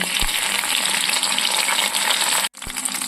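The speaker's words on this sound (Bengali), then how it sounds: "তেল গরম হয়ে গেছে। এবার আমি এক এক করে ভেজে নেব।" Prawn paturi wrapped in ash-gourd leaves fries in hot oil in a kadai, giving a loud, dense, unbroken sizzle close up. A brief dropout comes near the end, then the frying resumes.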